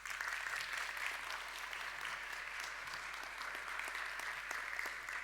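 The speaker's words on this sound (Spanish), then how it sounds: "un aplauso para ella" An audience applauds an actress at a live performance, a dense, even patter of many hands clapping that carries steadily from start to finish without speech.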